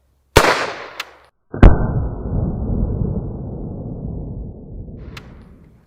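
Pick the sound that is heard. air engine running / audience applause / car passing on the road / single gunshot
single gunshot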